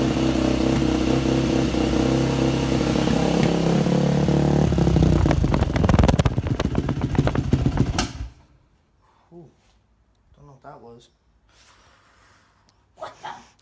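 A dirt bike fitted with a homemade spark arrestor runs loud and close, its engine rumbling and revving with rattling clatter for several seconds before cutting off abruptly, leaving near silence with faint breathing and small noises.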